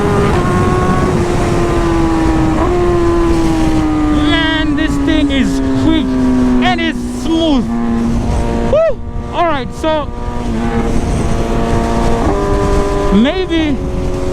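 A 2024 BMW S1000RR motorcycle engine revs hard while riding, loud and close, its pitch climbing through repeated rising sweeps with quick drops at the gear shifts, under constant wind roar.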